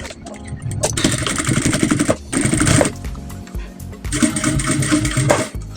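A sewing machine stitches bust caging for a corset in several loud, rapid bursts, stopping and starting between runs with short pauses where the fabric is adjusted.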